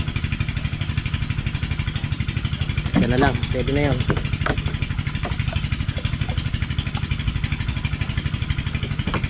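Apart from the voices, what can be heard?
motor engine running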